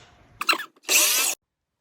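A power tool trims cedar picket boards: a brief rough burst, then about half a second of steady, loud, close whining cut that stops abruptly.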